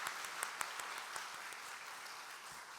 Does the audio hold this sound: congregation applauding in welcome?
yes